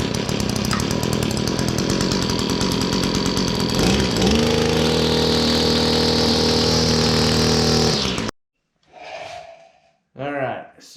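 An Echo SRM266 string trimmer with a newly installed carburetor runs loudly and steadily for about eight seconds, its engine note shifting partway, then cuts out, followed by brief voice sounds.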